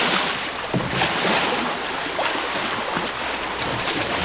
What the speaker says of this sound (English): Water's pretty choppy, it's kind of hard on the kayaks.